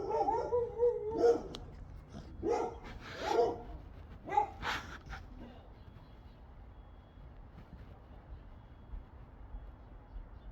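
A dog whimpers and whines from inside a house, several short high-pitched bursts in the first few seconds, muffled as if behind a door, then fading to quiet background.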